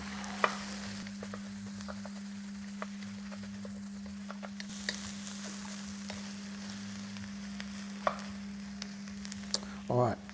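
Mushrooms stirred in a frying pan, a soft, steady sizzle with scattered spatula taps and scrapes over a constant low kitchen hum, ending in a short cluster of clatter.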